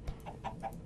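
A Minecraft chicken clucking in a short run of three or four soft, quick clucks, faint and alone.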